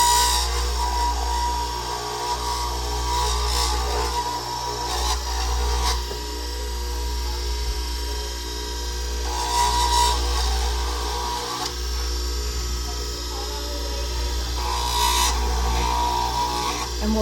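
Continuous whine of a dental rotary tool trimming and tapering an acrylic denture during a denture delivery, with a steady low hum underneath and light rasping passes that swell and fade several times.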